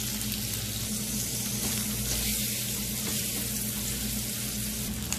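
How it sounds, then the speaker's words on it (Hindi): Prawns frying in oil in a pan for a couple of minutes while a green jhinga masala curry is cooked, giving a steady, close, continuous sizzle and crackle with no talking. "सबसे पहले हम झींगों को अच्छे से थोड़ा फ्राई कर लेंगे।"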